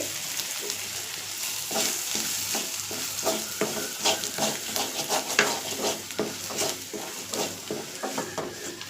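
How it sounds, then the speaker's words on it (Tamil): Food sautés in a pan while a spoon stirs and scrapes it in a quick repeated rhythm, with soft sizzling underneath the close clinks, and nobody speaks. "அடி பிடிக்கல, ஒன்றும் இல்லை, நல்லா அதுக்கு வதங்கி வந்திருக்கு."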